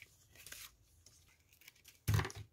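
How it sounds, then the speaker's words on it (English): Scissors snip through craft paper while cutting out a paper heart, a few soft close cuts and crinkles ending in one louder sharp slice, all quiet and close with no talking. "let's first cut this one out so we can actually see if we can use it"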